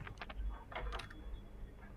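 Quick bursts of computer keyboard typing, a few clustered clicks and clacks close by, pausing briefly between runs with no voices.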